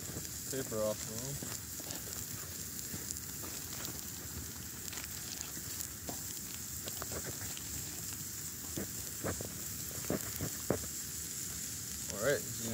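A burger sizzles and crackles over a campfire in a steady, moderately quiet wash of frying noise, with a few brief voices in the background.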